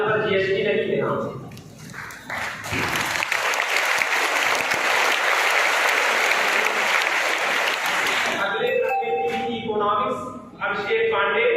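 A hall audience at a school Teachers' Day celebration bursts into loud, sustained applause for several seconds, framed by an amplified announcer speaking before and after.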